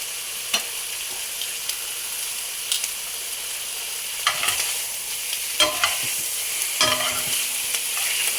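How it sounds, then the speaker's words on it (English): Hot dog toppings fry in a pan under a steady broadband sizzle, with a handful of sharp utensil scrapes and clacks scattered through the stirring. "give it a nice healthy stir and then leave it for a bit"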